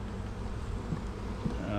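Honeybees buzz steadily in a dense, close drone during a fall hive inspection, the hum holding level and unbroken throughout with no voices over it.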